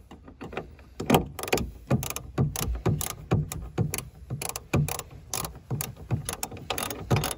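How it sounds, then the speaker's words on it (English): Ratcheting wrench snugging down a car battery hold-down clamp, a run of quick metallic clicks and ratchet strokes in uneven bursts, close and fairly clear with no talk. "you just snug them back down with your wrench"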